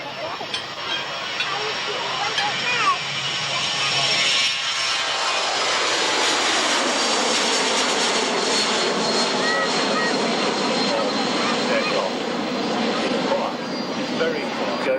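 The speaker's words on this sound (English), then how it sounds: "Powered by the Garrett TPE 331 turboprop." A Garrett TPE 331 turboprop aircraft flies past at the 1994 Woodford airshow, its loud engine drone and whine swelling and holding steady as it crosses close by, with a commentator talking over it.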